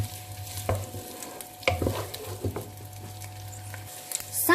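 Sausage frying in a pan for homemade tacos, stirred now and then: a steady close sizzle with several sharp scraping stir strokes, and no voices.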